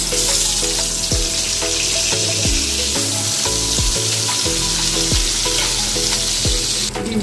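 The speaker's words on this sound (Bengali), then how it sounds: "ডিমটা ভাজা হয়ে গেছে, আমি উল্টে দিয়েছি" Rohu fish roe coated in salt and turmeric fries in a kadai, giving a steady, loud, close sizzle that runs continuously beneath rhythmic background music.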